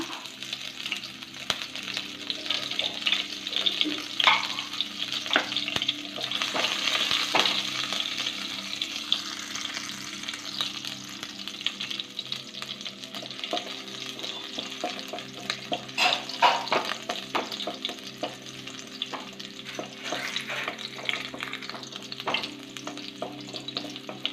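Garlic, ginger, green chilli and curry leaves sizzle and fry steadily in a pan, with a continuous bright crackle, occasional stirring scrapes and spatters, close and moderately loud, with no talking.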